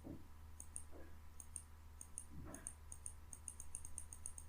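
Faint, quick computer mouse clicks in Tinkercad 3D modelling software, tapping in an irregular rhythm over a low steady hum of background room noise, with no talking.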